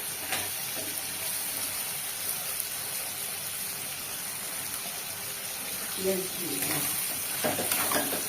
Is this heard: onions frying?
yes